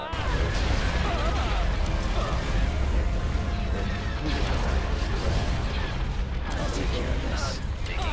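Small ships in the Thrawn's Revenge: Imperial Civil War space battle game pour out a dense, unbroken barrage of rapid fire and booming impacts, loud and steady throughout, with a voice speaking over the din.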